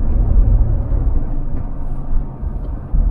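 A 2019 Jeep Wrangler Rubicon's 3.6 V6 engine while driving, a low, steady rumble heard from the cabin, constant and fairly loud, without speech.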